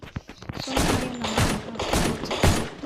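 Rapid bursts of gunfire from a shooting video game crackle close and dense, shots overlapping in quick succession for nearly three seconds, with a voice faintly underneath.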